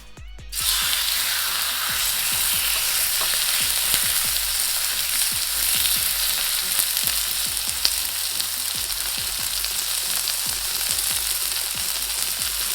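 Chicken breast fries in oil in a pan for pesto pasta, a steady close sizzle with scattered small pops and crackles throughout, and no voices.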